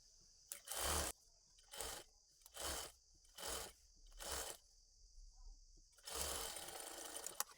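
A sewing machine stitches the sleeve of a half-collar uniform dress, running in five short bursts and then one longer run, each with a steady high whir and pauses between. It is close and clear, with no talking.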